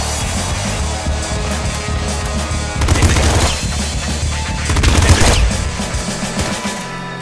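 Pop gun blasts in the video game Nuclear Throne, a steady rapid stream of sharp shots with two louder bursts partway through, close and alone with no talking.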